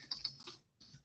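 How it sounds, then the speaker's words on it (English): Quick clicks from a loud computer keyboard, a short burst of several keystrokes, a pause, then another tap, close and faint. "You guys are going to hear my keyboard. My keyboard's pretty loud."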